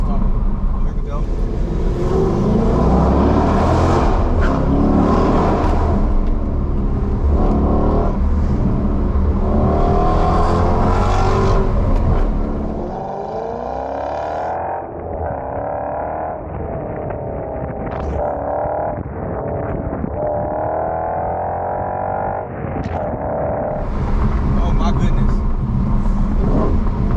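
A manual Dodge SRT accelerates hard inside a tunnel, its engine roaring loud and close through rising revs and gear changes, echoing off the walls, with a voice talking over it.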